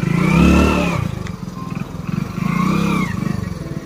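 An off-road motorcycle's engine revs and whines as its rear tyre spins and slips on a rough dangerous road in Rajouri, with two rising surges of close, loud revving and some clatter.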